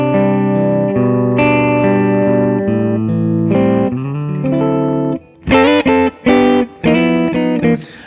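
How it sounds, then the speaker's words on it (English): A clean electric guitar tone with reverb plays through a Friedman BE-100 amplifier into a 1x12 cabinet, sustained chords ringing out, then short choppy strummed chords near the end, loud and alone. "now I put a bit of reverb on, but man, the clean tone of this amp."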